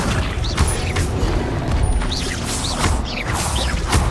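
An Accio summoning spell cast in Hogwarts Legacy: a series of whooshing, clattering magical bursts with mechanical rattles and thumps, repeating in quick uneven pulses over steady game ambience.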